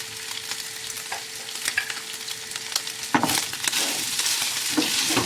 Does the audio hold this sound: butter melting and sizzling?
yes